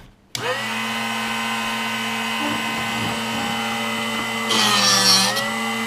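A Drill Doctor drill bit sharpener starts abruptly and runs with a steady high motor whine close by. Near the end, a harsher grinding burst rises as the bit meets the sharpening wheel.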